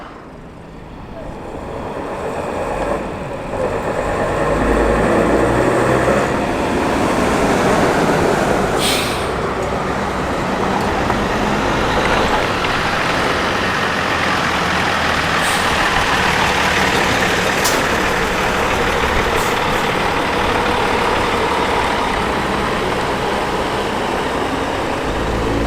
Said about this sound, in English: Foden's off.